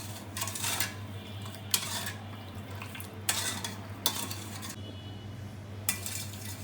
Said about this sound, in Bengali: তারপর হচ্ছে এটাকে ভালো মতো চিনিটা ভালো মতো মিশিয়ে নিতে হবে।